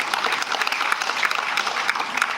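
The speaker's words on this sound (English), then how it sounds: "A round of applause, please, ladies and gentlemen." A festival audience at the Manila Film Festival applauds committee members, a dense, steady wash of many hands clapping together for a couple of seconds with no voices over it.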